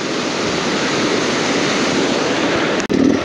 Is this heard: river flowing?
yes